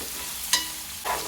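Curry leaves dropped into hot oil for a puri curry, giving a steady sizzle that rises into a brief louder spit, then settles before flaring again.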